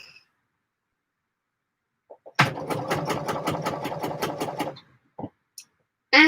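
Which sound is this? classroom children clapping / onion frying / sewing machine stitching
sewing machine stitching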